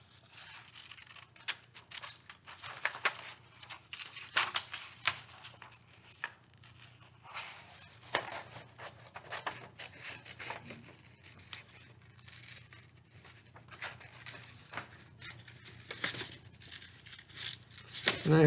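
Scissors snip through paper to cut out a hand print shape, a string of quiet, irregular crisp cuts and rustles, close by, with faint breaths or movement between them.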